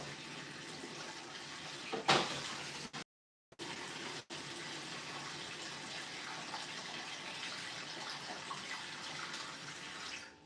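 Water pours into a pet raven's water dish, a steady gushing stream that runs throughout with a brief clatter near the start and a short break in the middle, close and fairly quiet, with no talk.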